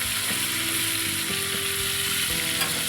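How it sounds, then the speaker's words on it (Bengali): Koi fish frying in mustard oil, a steady close sizzle with faint scraping clicks, heard on its own with no talk. "আমি একটু তেলে সর্ষের তেলে মাছগুলো ভেজে নিচ্ছি"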